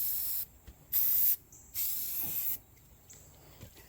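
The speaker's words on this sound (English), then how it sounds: "You just have to not spray the whole board" Aerosol spray paint hissing onto a board during farm work, in three bursts of a second or less, with short pauses and a longer final spray; quiet background between.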